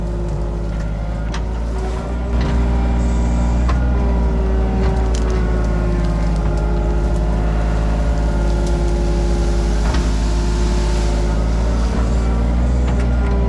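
A tractor with its blade lowered grades a hillside road, scraping off humps, Scotch broom and blackberries; its heavy engine drones loud and close without a break, with a few faint clunks over the steady rumble.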